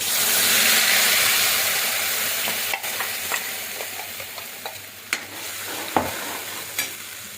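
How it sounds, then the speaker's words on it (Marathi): Gravy poured into hot oil tempered with curry leaves for a paneer curry sizzles and fries steadily, loud at first then easing, with scattered stirring clinks and taps; no talking. "तेल गरम झालेलं आहे, आता आपण यात ग्रेव्ही टाकून घेणार आहोत।"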